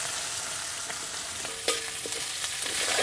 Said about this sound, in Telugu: ఇది ఒక్కసారి ఇలా కలుపుకొని కోసి పెట్టుకున్న ఉల్లిపాయ ముక్కలు వేసేసుకుందాం.